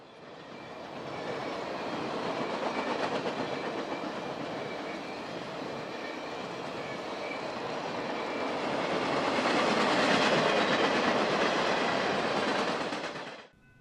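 A passenger train rolls steadily along the tracks through the Louisiana Delta with a continuous rumbling roar and faint clatter, growing slightly louder toward the end before cutting off.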